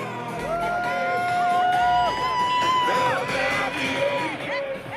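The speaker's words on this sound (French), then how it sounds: "La foule est venue saluer les voitures sur le chemin entre Gaza et la base militaire de Re'im." Crowd lining the road between Gaza and the Re'im military base cheers and whoops as cars carrying freed Israeli hostages pass, a loud sustained wash of shouting and yelling voices with rising calls.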